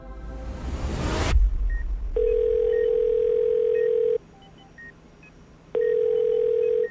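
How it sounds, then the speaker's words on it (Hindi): A loud thump, then long steady electronic telephone tones with short pauses between, like a call being placed and ringing out. "मैंने तुरंत राजा को फोन किया।"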